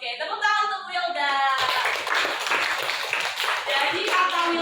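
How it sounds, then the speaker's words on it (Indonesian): A classroom gives a student applause, a burst of quick hand claps that lasts several seconds, and a voice speaks over the start. "Oke, tepuk tangan untuk Wilda."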